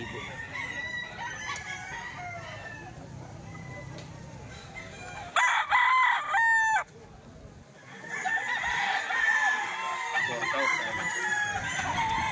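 A rooster crows once, loud and close, standing out briefly against a murmuring background of other birds and farm noise.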